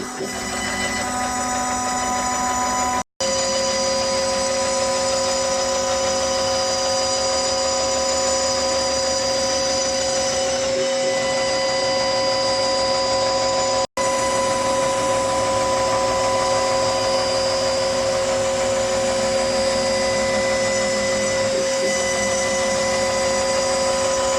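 A CNC spindle on a 4th rotary axis machining the corners off a workpiece, a steady loud high-pitched whine with a strong tonal hum and continuous cutting noise, briefly cut off twice.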